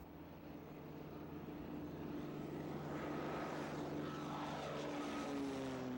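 A Cessna airplane makes a slow, low pass with full flaps, its propeller engine droning steadily and growing slightly louder as it nears, with no talking.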